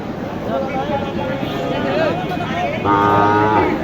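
A Jersey cross cow moos at a busy cattle market, a loud, close, drawn-out low call rising near the end, with people talking and market noise around it.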